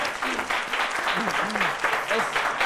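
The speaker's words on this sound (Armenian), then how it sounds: "Ծափահարություններ։" Studio audience applause on the Armenian game show Nor Xagh fills the clip: dense, steady clapping throughout, with a voice speaking over it.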